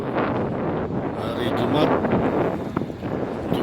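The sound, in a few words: strong wind at Merak harbour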